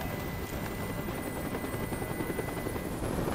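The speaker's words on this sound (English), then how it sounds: "Tell that helicopter to get out of here." A helicopter hovers in the video game Detroit: Become Human. Its dense, churning rotor thrum holds steady and close for a few seconds, moderately loud, with a faint whine above and no speech.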